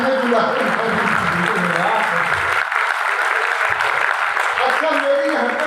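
Audience applause at a Hindi poetry recitation, a loud, dense burst of clapping from a crowd that fills the whole stretch, briefly dipping in the middle before continuing steadily.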